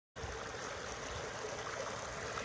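East Creek flows through Garnet Lehman Park with a steady, gentle trickling rush, close and continuous, starting abruptly with no voices.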